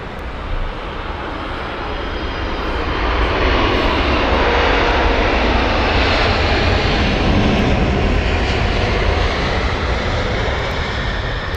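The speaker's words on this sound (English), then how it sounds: "Plenty more heavy aircraft to come though" A heavy jet airliner at Heathrow Airport rumbles past, its broad engine roar swelling from a distance to a loud, sustained wash that fills the whole stretch with no voices.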